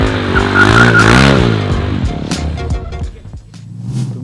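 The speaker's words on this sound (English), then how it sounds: "You do that by adding more throttle to lose the grip on the back tire, and you can lean and slide the bike on the floor" Motorcycle drifting as extra throttle breaks the rear tire loose and the bike leans into a slide, a loud close engine wail rising and falling in pitch alongside rough sliding tire noise, ending in choppier bursts.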